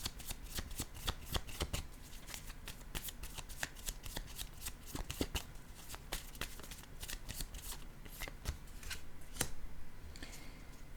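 Playing cards shuffled by hand during a tarot-style reading, a dense run of rapid riffling clicks and flutters going on steadily and close for the whole stretch, with no voice over it.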